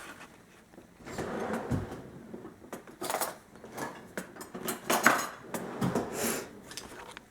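A metal spoon clinks and clatters against kitchen utensils and a blender jar, with irregular close taps and knocks at moderate volume and no talk.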